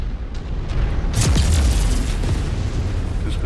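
Artillery shells burst in a MechWarrior-style mech combat game, one heavy boom rising out of a steady low rumble and rolling on as a sustained roar, loud and fairly close.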